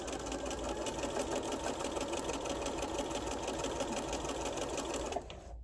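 A sewing machine stitches fabric in a close, steady rapid hum for about five seconds before cutting off abruptly.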